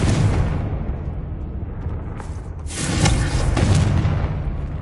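A Confringo fire spell in Hogwarts Legacy goes off as a loud, roaring explosion. A first burst is followed by a bigger blast that rumbles on for a couple of seconds, up close and alone.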